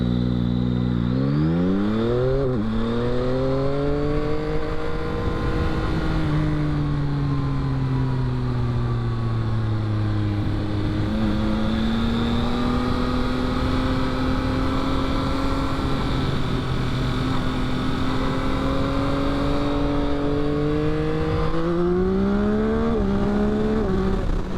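A 2022 Yamaha XSR900 motorcycle ridden at speed, its engine note rising and falling steadily with repeated shifts and throttle changes over loud, continuous wind rush, close and with no voices.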